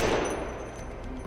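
Flatline assault rifle fire in Apex Legends, a dense burst of rapid automatic shots blending into a loud continuous clatter that runs through the short stretch without pause.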